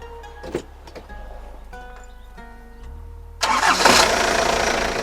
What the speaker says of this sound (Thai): เดี๋ยวลองฟังเสียงเครื่อง อฟังเสียงเครื่องดูครับ